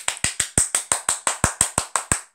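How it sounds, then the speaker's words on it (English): A class gives a round of applause, about a dozen sharp, evenly spaced claps in a steady rhythm, close and clear with no voices over them. "I meant to give my class a round of applause."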